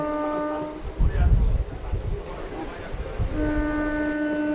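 A passenger train rumbles along the Azimganj–Murshidabad track near the Lalgola line junction with low, rolling noise, and a long sustained horn tone sounds at the start and returns near the end.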